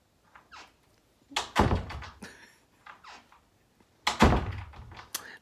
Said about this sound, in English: That's Rocket slamming the door over and over.